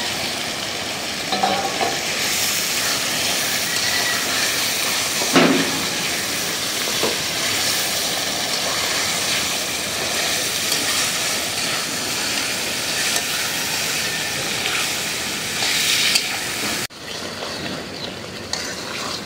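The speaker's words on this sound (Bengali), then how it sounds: "এখন আমি মাছের মাথাটা দিয়ে ভালোভাবে কষিয়ে নেব" A catla fish head fries in hot spiced oil, giving a loud, continuous close sizzle with occasional stirring scrapes and a few sharper pops. There is no talking throughout.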